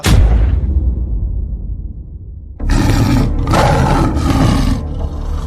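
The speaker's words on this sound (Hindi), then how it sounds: "ये तो शेर की दहाड़ने की आवाज है।" A deep, powerful lion roar bursts out loud and close, fades into a long rumble, then returns in two more heavy roaring surges.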